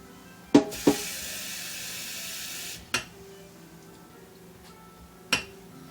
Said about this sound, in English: you add water to make a cup